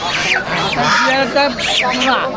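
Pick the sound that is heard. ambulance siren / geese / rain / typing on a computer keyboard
geese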